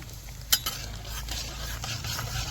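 Cumin seeds dropped into hot oil in a pan for Uttarakhandi home cooking, giving a sharp crackle burst followed by a steady broadband sizzle that continues throughout, with no talking.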